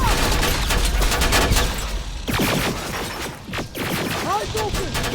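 Dense, loud gunfire rattles almost continuously in a Terminator Resistance battle, rapid bursts and shots layered over each other with shouting voices mixed in.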